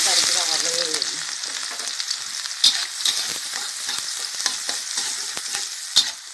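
Chili and garlic frying in a hot wok, a bright continuous sizzle with scraping stir strokes and a couple of sharper clanks, close and loud, after a brief voice at the start.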